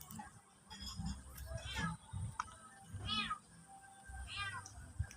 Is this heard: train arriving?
no